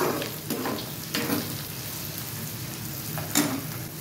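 Chopped onion and capsicum sizzle steadily in a hot pan, with a few louder scraping stirs near the start and end and a constant crackling hiss between them, close and alone without talk.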